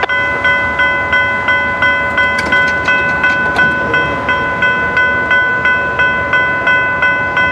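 FEC locomotive 814 leads a train through a steady, loud run, with horn-like sustained tones held throughout and a regular clickety-clack of wagons passing close by.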